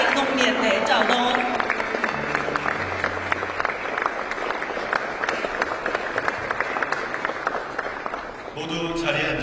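A standing audience applauds to welcome guests at a state dinner hosted by the South Korean president for Vietnam's party general secretary. Dense, steady clapping fills the room for several seconds, with a brief lull near the end before more clapping.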